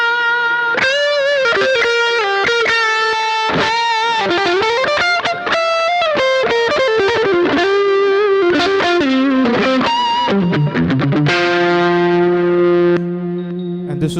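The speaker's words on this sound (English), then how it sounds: "You can hear how extremely saturated the sound is." An electric guitar runs through an Ibanez TS Mini Tube Screamer overdrive pedal. The tone is heavily saturated, with long-sustaining distorted notes, quick runs and bends, and a final chord that rings out loud and alone.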